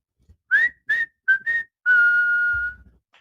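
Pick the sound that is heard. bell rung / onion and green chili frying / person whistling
person whistling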